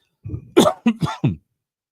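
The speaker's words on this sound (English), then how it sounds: "Sorry, I didn't mean to cough into the microphone" Several close coughs into a microphone, a short cluster of four or five harsh throaty bursts in quick succession, loud and otherwise quiet around them.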